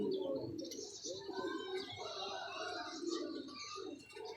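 Pigeons coo at a pigeon club, soft warbling calls overlapping steadily at moderate distance, with a few chirps mixed in.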